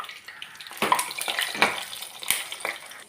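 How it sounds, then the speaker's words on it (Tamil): Slices of elephant foot yam deep frying in oil give a continuous bubbling hiss, broken by several louder bursts of crackle as pieces are moved or added, close and fairly loud. "டீப் ஃப்ரை தான் பண்ணுறேன்."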